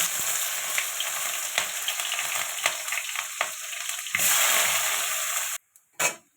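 Bay leaf, tempering spices and onion fry in a pan, giving a steady close sizzle with a few stirring scrapes and clinks. The sizzle flares louder near the end, then breaks off abruptly.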